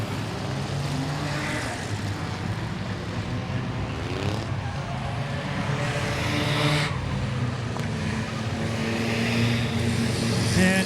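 Stock cars racing an enduro on the Langley Speedway oval, engines roaring continuously with rising and falling pitch as the pack circles, a dense loud drone throughout.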